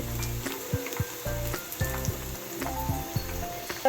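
Onions and turmeric powder frying in hot oil for a vegetable sambar, a steady sizzle with clacking stir strokes against the pan, close and fairly loud throughout.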